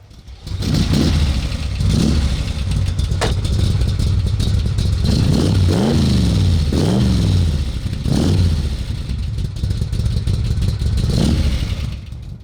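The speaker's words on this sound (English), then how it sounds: "A big block V8 and a set of side pipes is the ultimate in a Cobra." A big block V8 in an AC Cobra with side pipes roars loud and close, with a deep rumbling idle broken by several sharp revving blips.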